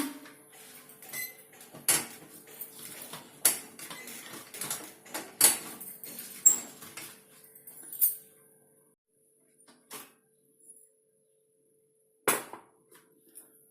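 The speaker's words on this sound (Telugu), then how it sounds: "ఇప్పుడు నేను లాక్ ఓపెన్ చేస్తాను" Metal clicks and clacks from unlatching the locking lid of an AMC cookware pot after cooking lentils with greens and tomato, a series of sharp close knocks and rattles followed by quieter pauses and a last click.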